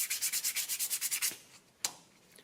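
About a dozen quick, rhythmic rubbing strokes of sanding the front brake shoes of a Yamaha GT80 motorcycle up close, then a pause and a single sharp scrape.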